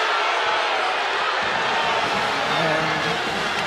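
Crowd noise fills a women's basketball arena during an Iowa vs NC State game, a steady loud roar of voices with some low rumble and thuds, as fans react to a no-call at the end of the third quarter.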